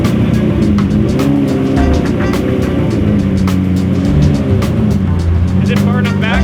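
A Lamborghini Murcielago is driven with a loud, steady engine roar and a rumbling drone up close, continuous for the whole stretch.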